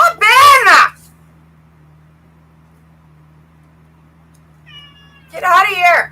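A cat meows loudly up close in a room with a low steady hum, two drawn-out wavering yowls separated by several seconds of quiet, with a faint short chirp just before the second cry.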